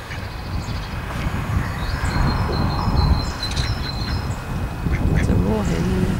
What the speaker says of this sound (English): They still go quack quack.